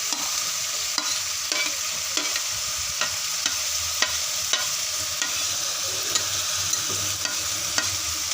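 Flat beans sizzle steadily as they are stirred in a hot frying pan, a continuous crackling hiss broken by regular scraping taps of the spatula every second or so.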